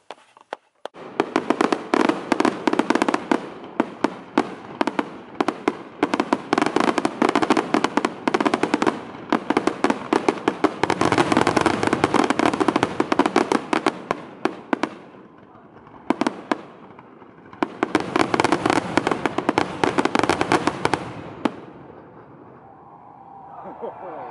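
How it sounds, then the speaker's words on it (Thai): National day fireworks display, a long dense barrage of loud crackling bursts and booms that runs almost continuously for about twenty seconds, pauses briefly, then erupts again before fading to quieter background noise. "ไปดูพลุมาแล้ว"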